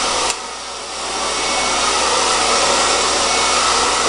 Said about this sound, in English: Use the blow dryer on top of the hair to help pull it